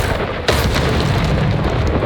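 A Confringo blasting spell explodes in Hogwarts Legacy amid a spider-infested area: one sudden, loud boom hits near the start and trails off into a sustained rumbling roar.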